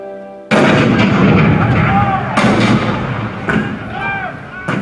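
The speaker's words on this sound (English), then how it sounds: "The cannon spoke for war, bitter, violent, and devastating." Heavy cannon blasts boom out in a Hall of Presidents show depicting Fort Sumter, 1861, a loud first shot followed by further reports echoing, with voices calling faintly underneath.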